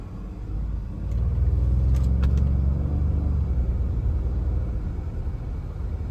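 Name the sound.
2021 Ford F150 truck driving, transmission shifting gears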